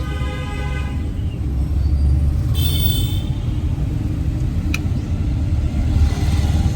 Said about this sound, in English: so many cars.